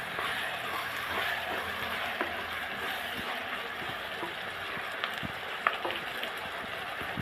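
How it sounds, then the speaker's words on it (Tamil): Brinjal pieces sautéing in hot oil in a pan for vangibath, a soft, steady sizzle and crackle held at low level throughout, with a few faint clinks and no voices. "இப்போ கத்திரிக்காய் கொஞ்சம் இந்த எண்ணெயிலே வதங்கட்டும்."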